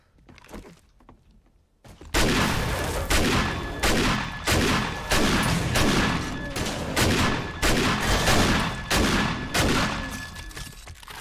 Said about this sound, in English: he's shooting at him